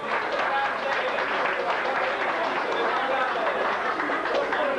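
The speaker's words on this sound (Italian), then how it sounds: "Un caloroso applauso a Franceschino De Muro." Sustained audience applause at a Sardinian guitar singing contest in Sassari, in honour of Franceschino De Muro, a dense steady wash of clapping mixed with crowd chatter and voices throughout.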